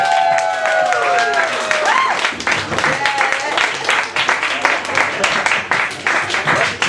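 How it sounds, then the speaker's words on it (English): Audience applause for a poet at an open mic night, clapping and cheering from a crowd that builds steadily and holds for several seconds, with voices and a whoop mixed in. "let's have a big round of applause for our first feature, the great poet Brendan Lorber"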